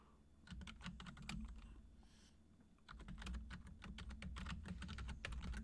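Keys clatter on a computer keyboard as a command is typed, in quick bursts with a short pause midway, close and quiet.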